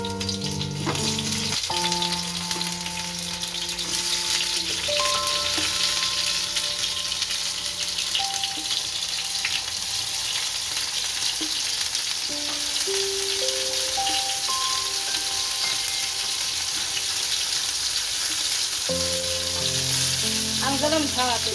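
Tomato pieces frying in hot oil on a gas stove for Gujarati tomato chutney, a steady dense sizzle running close and loud throughout, with sustained musical tones sitting underneath.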